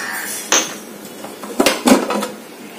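A metal pressure cooker holding cooked lentils and snake gourd for a kootu is opened after its whistle, giving a few sharp clanks and a clattering scrape of the lid, close by and alone.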